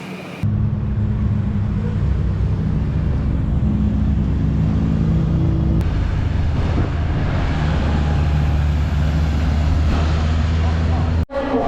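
Loud, continuous engine drone and rumble from race cars on track during a Britcar Trophy race, a steady close roar that shifts pitch midway, with voices talking over it.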